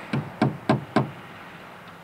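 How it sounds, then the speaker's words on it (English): A sledgehammer drives a peg on a supermarket building site: four evenly spaced, dull thuds about a quarter second apart, fairly close and moderately loud over faint background noise. "Peg and a sledgehammer, huh? Sledgehammer and a peg."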